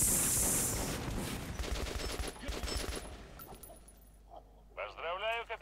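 Bursts of automatic gunfire in the video game Metro: Last Light, a dense rapid volley that dies away after a few seconds, followed by a voice speaking briefly.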